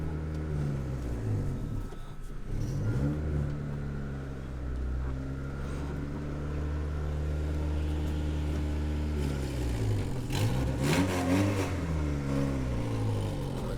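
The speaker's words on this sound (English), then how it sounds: "Throttle body's sticking, so I gotta fix that, but it's driving." A car engine with a sticking throttle body revs up and settles back repeatedly, its pitch rising and falling in uneven surges, moderately loud and heard alone.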